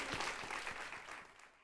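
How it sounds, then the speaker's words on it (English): An evening audience claps for spelling bee contestants, brief, steady and soft-sounding, as if heard from some distance. "So let's have a big round of applause for all of our"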